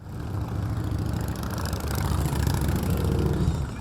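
Motorcycles of a riding group rumble together in a dense, continuous engine roar that swells slightly as the bikes pass close by.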